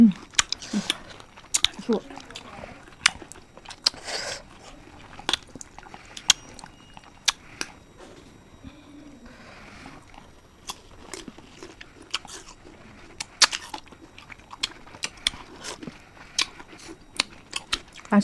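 Green mango being bitten and chewed close up, with sharp, repeated crunchy bites and wet mastication spread irregularly through the whole stretch, and soft speech now and then underneath.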